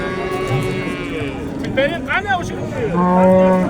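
A cow moos at a busy livestock bazaar in Chust, a long low call rising near the end over crowd chatter and people talking nearby.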